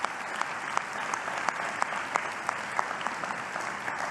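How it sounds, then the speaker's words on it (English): An audience applauds at a 2016 vice presidential debate hall, with steady, dense clapping at a moderate distance and a few sharper individual claps cutting through. "Give yourself a round of applause."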